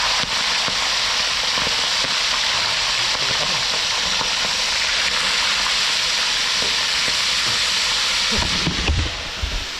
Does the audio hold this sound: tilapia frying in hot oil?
yes